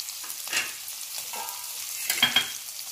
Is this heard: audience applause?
no